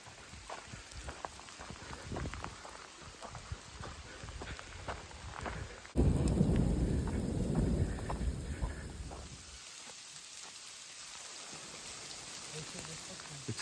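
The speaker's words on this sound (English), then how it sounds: "Well, it's starting to rain." Rain beginning to fall during a hike, a soft scattered patter of drops with crunching footsteps, louder and closer for a few seconds midway before fading to a quieter hiss.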